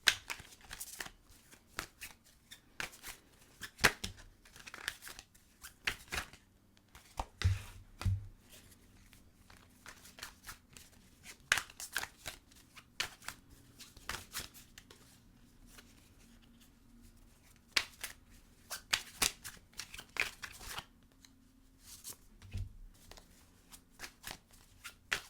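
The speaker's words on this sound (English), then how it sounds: "going to shuffle the decks, take a breath" A deck of tarot cards is shuffled by hand at close range, with continual soft slapping, sliding and riffling bursts in an irregular rhythm over a long stretch, no voices over it.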